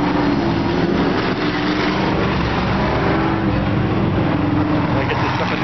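A race car engine revs hard while stuck in mud at a race, a loud continuous droning roar with shifting pitch, mixed with crowd noise and nearby talk.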